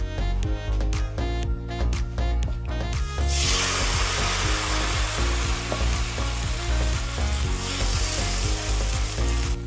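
Loud, crackling sizzle of bánh xèo crepe batter hitting a hot pan, a sharp hiss that surges partway through and continues steadily, with clattering in the opening seconds.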